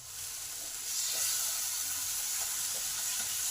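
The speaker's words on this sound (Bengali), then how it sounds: "তাই মশলার কাঁচা গন্ধটা যতক্ষণ থাকবে ততক্ষণ ভালো করে কষে নিতে হবে।" Spice paste (masala) sizzling steadily in a pan, a continuous soft broadband hiss at low level with faint stirring scrapes, no voices.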